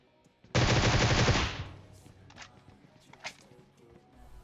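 Gunfire in the video game PUBG: a rapid burst of automatic shots lasting about one second, loud and close, then fading into quiet with faint scattered sounds.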